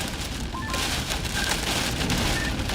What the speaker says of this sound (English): There's actually some good wind with some hail in there.